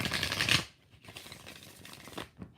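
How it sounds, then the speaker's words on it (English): A deck of tarot cards is shuffled by hand in close, crisp bursts: one dense riffle, then quieter intermittent shuffling noises after a brief pause. "3 more shuffles."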